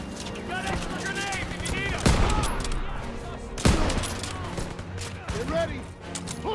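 Suppressive gunfire in Call of Duty WWII: rapid rifle and machine-gun bursts crackle continuously, with a couple of heavier booms, under soldiers shouting in the battle.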